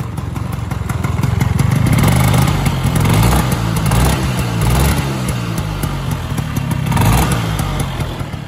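A Honda Lead 125 two-stroke scooter engine runs close up, a loud, raspy, buzzing idle with slight rises and falls in revs throughout.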